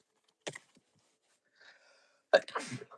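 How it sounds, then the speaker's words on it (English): A single sharp sneeze bursts out near the end, preceded by a short intake of breath and a quiet sniff, close and otherwise silent. "Oh, I got to sneeze, man. I got to sneeze."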